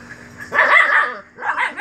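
Dogs bark and yip at each other up close, in a loud excited burst followed by a shorter second round of barking after a brief dip.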